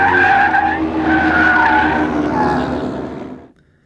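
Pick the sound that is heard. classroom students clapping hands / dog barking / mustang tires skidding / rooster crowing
mustang tires skidding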